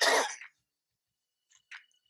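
A single sharp cough bursts out close to the microphone, followed by a brief silence and then a couple of faint, short throat sounds.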